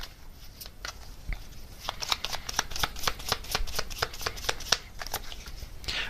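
Message cards are shuffled by hand close up, a rapid run of crisp riffling flicks and slaps that speeds up midway and carries on with no voice.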